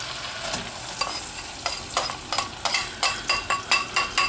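Onion hits melted butter in a pan and is stirred, giving a soft, steady sizzle with a series of sharper scraping clicks from the utensil that grow more regular toward the end.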